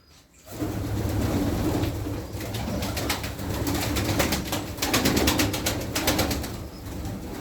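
Domestic pigeons in a loft coo repeatedly, their low throaty calls overlapping at close range over a busy background of shuffling and a few soft wing flaps.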